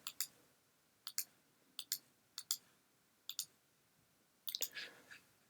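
Mouse clicks while editing in Photoshop on a Mac, in sharp pairs of double clicks spaced about a second apart, close and fairly quiet against a silent room, with a busier cluster of clicks at the end.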